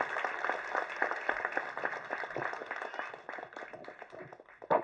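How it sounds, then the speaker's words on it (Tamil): Audience applause for a film producer at a Tamil film event, a dense steady clapping from a crowd that runs throughout and swells briefly at the end. "எல்லாரும் ஒரு பெரிய கைத்தட்டு தட்டுங்க நம்ம தயாரிப்பாளருக்கு"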